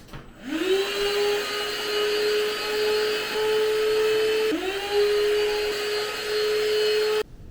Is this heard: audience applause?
no